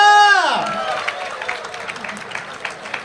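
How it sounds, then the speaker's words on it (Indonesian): A crowd applauds at the Independence Day ceremony at the Nusantara capital palace, scattered claps rising after a loud sustained voice fades out, moderately loud and continuing steadily to the end. "Berikan tepuk tangan meriah, ini dia hadiahnya."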